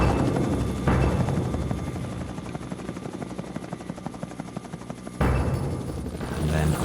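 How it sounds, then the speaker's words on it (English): A United Nations helicopter flies far off over jungle, its rotor a steady rhythmic thumping that holds throughout at a moderate level, with a broader whooshing swell at the start and again near the end. "a United Nations helicopter has been searching the jungle for them"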